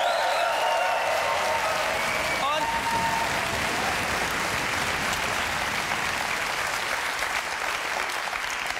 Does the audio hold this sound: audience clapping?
yes